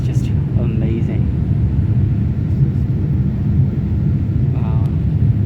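An Air India Boeing 787 Dreamliner jet takes off from Lucknow, its engines a steady, loud, broad low roar heard from inside the cabin throughout, with brief faint voices near the start and end.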